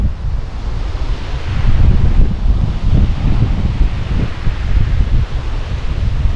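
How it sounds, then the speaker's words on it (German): Strong wind buffets an outdoor microphone, making a loud, continuous low roar that surges and rustles throughout, with no voices. "Jetzt geht nochmal Wind, wir sind nochmal ganz ruhig."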